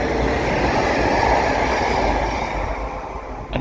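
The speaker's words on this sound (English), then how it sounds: "You are about to bear witness" A passenger train rolls past close by with a loud, steady rumble and rushing noise that eases slightly toward the end.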